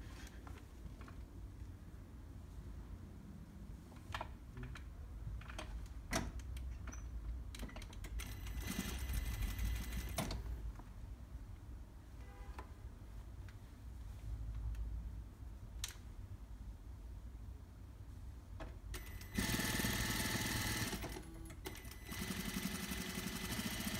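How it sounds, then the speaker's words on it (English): A sewing machine stitches a folded T-shirt hem close to the edge, running in steady bursts with brief pauses and a louder stretch near the end, with no talking. "we're gonna stitch it near the edge to give us that clean finish"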